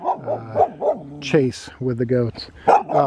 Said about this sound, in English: he's barking at our cat behind me